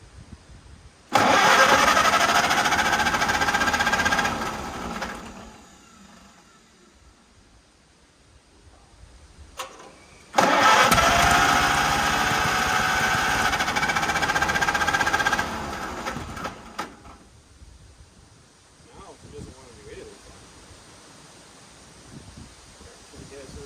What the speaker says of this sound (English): we will see if we can make some tractor sounds again real quick